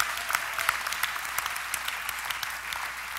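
Applause from a church audience at a sermon, steady dense clapping that sounds fairly distant and soft, with no voices over it.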